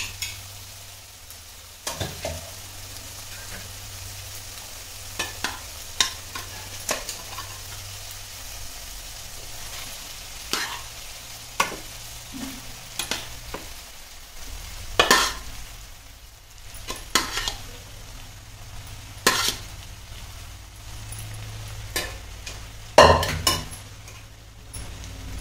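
Cooked rice is stirred into a mint gravy in a pan with a soft, faint sizzle and scattered clinks and scrapes of a spoon against the metal, with no talking.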